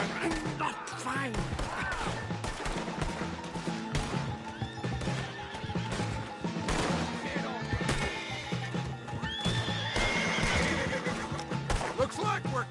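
Horses in Red Dead Redemption 2 neigh and whinny loudly with clopping hooves during a tense escape scene, mixed with game music, crashes and characters speaking.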